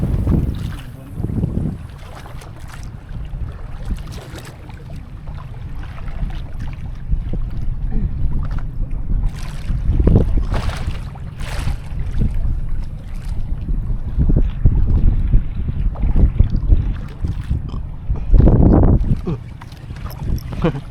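Strong wind buffets the microphone out on a small fishing boat on open water, a loud, gusty low roar that swells and surges irregularly throughout, with water slapping beneath and no clear talk.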